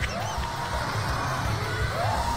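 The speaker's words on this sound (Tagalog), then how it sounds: "Ang manonood naman kanya-kanyang hiyawan." A fiesta crowd watching a blindfolded boxing match yells and cheers, a dense wash of shouting with occasional whoops rising above the noise.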